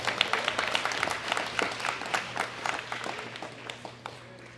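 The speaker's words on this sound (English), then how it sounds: "Big round of applause for Yoshihiro Higa." Audience applause at the World Classic Powerlifting Championships 2018 medal ceremony, men's open 74 kg, for the bronze medallist from Japan. Moderate, steady clapping from a crowd, holding for several seconds and gradually thinning, with a low hum underneath.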